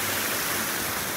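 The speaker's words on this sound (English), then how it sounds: "hope you guys can hear me over the water" A waterfall beside Spaceship Earth at EPCOT, Walt Disney World, on a cool holiday-season day, pours out a steady, close, broadband rush of water that fills the whole moment without a break.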